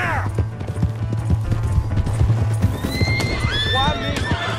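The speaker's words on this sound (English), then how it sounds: "Hey, that's my horse." A horse in the video game Red Dead Redemption 2 whinnies with rising and falling cries over clip-clopping hooves and game ambience, while voices talk throughout.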